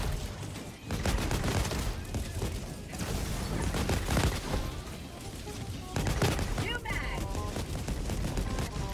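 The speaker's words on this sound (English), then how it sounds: "The amount of rockets." Dense battlefield barrage of rockets and gunfire in the video game Helldivers 2, with continuous overlapping shots and booms filling the whole stretch at steady loudness, with voices talking over the din.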